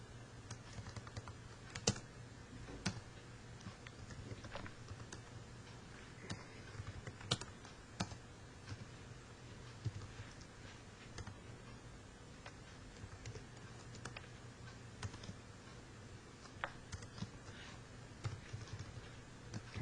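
Steady typing on a computer keyboard while writing a program, soft irregular key taps and occasional sharper clicks running continuously at close range over a low hum.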